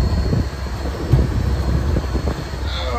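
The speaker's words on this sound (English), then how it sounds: "The air blower that it has, I'll turn that on. It's noisy," Air blower running on a John Deere 45 combine, a loud, steady mechanical roar close by with a broad rushing whoosh that holds evenly for a few seconds.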